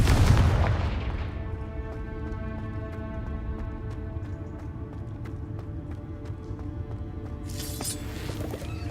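A fiery Confringo spell blast in the game Hogwarts Legacy booms loudly at the start, then fades into a long low rumble beneath steady game music.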